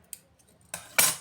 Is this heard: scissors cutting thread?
yes